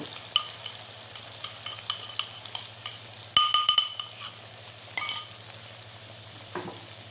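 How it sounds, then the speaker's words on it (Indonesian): Ground spice paste frying in a few spoonfuls of oil in a wok for green beans and tofu in coconut milk, a low steady sizzle with repeated clinks and scrapes of a spatula stirring, close by, with no talk. "Kemudian bumbu halusnya kita sangrai terlebih dahulu."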